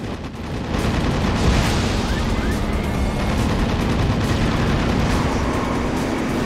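Machine gun fire in the Twisted Metal Head On vehicular combat game plays as a sustained, dense rattle of shots over a constant engine drone, loud and continuous after a brief quieter start.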